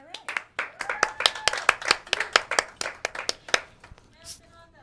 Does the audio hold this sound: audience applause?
yes